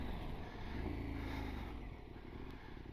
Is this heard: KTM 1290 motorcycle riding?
yes